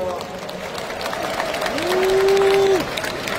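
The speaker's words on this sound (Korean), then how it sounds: "여러분 다시 한번 큰 박수 부탁드립니다." Audience applause fills a hall at a Democratic Party of Korea national convention, a steady, sustained clatter of many hands with crowd noise throughout and a brief tonal sweep rising over it.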